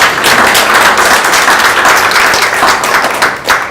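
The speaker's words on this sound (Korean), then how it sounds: "여러분 뜨거운 박수" A crowd applauding loudly, dense and continuous clapping close by that holds steady for several seconds before easing slightly.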